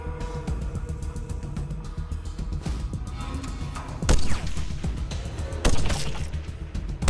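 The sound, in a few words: gunfire from the video game Wasteland 2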